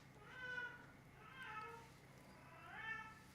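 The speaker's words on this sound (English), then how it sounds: "And that's my cat." A cat meows three times, evenly spaced, each call rising and falling; soft and slightly distant, with no voices.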